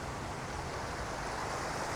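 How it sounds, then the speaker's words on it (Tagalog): Water overflows steadily at an irrigation check gate, giving a dense, even rushing roar at close range with no breaks and no voices. "check gate pero umaapaw na yung tubig"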